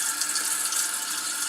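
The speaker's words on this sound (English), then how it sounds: "The tank fills" A Kohler toilet tank refills with water, giving a steady, close hiss of flowing water that stays constant from start to end.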